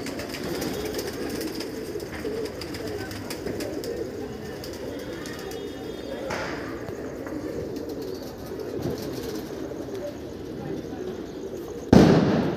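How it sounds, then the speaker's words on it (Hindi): A firecracker bomb goes off with one sudden loud bang near the end. Before it, steady outdoor ambience carries pigeons cooing during a pigeon-flying practice day. "ये बम फटा जी बहुत तगड़ा।"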